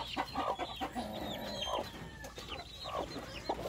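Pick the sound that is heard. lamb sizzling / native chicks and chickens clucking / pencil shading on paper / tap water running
native chicks and chickens clucking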